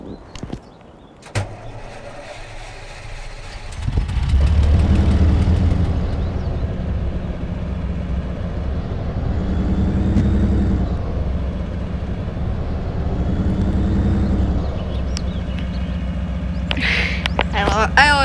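In the Spintires MudRunner game, an E7310 fuel truck's engine cranks and starts, then settles into a steady, loud diesel idle and rumble that rises and falls slightly while someone talks over it.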